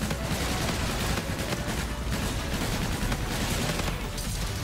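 Assault rifle gunfire in the Call of Duty: Infinite Warfare game, loud dense rapid bursts of shots and booms packed together over continuous battle noise, with no talk.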